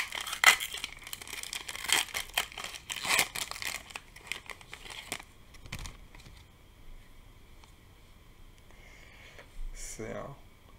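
A Japanese Pokémon Shiny Treasure ex booster pack is torn open up close, with dense foil crinkling and ripping for several seconds, then quieter handling of the cards as someone talks.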